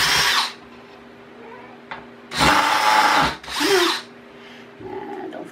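Two loud bursts of a power drill whirring as it removes screws, each lasting about a second, with a short earlier burst and a quiet pause between, close up.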